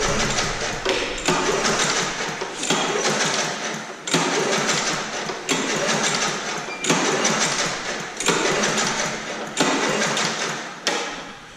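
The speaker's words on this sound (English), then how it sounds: "I'm going to pull the engine over." A small engine with its spark plug and air cleaner removed is pulled over repeatedly by hand, giving about ten loud rasping whirring strokes at a steady rhythm, each fading as the recoil slows.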